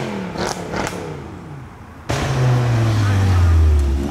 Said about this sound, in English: C63 arriving.